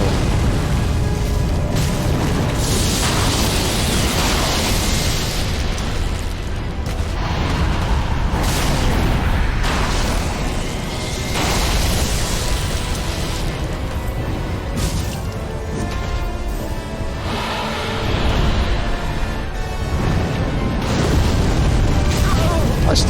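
Fiery explosions boom repeatedly in Dark Souls 3, dense and loud across the whole stretch, with crashing bursts layered over game noise while a player talks intermittently.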